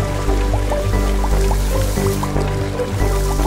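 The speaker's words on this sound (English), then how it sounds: "then it rains." Cartoon rain sound effect from a kids' water-cycle cartoon, a rapid series of bright, plinking water-drop blips over a steady watery bed, close and clear.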